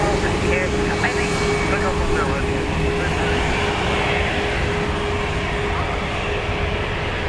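A plane departing Dublin Airport for Heathrow gives a loud, steady broadband roar that persists unbroken, with a faint murmur of voices in the background.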